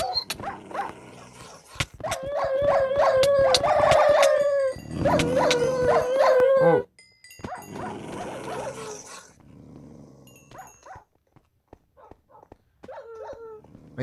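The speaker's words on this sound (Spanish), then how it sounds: "Hay perros afuera también." Dogs in a video game barking, growling and howling in a loud, dense burst near the start, then quieter scattered yelps and barks later, with no talk over them.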